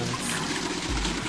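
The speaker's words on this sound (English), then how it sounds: "If I flush the hot water from the bucket, then that should clean it up." Hot water poured from a bucket into a toilet in the video game 999, a brief, steady splashing pour with a low gush near the end, heard alone.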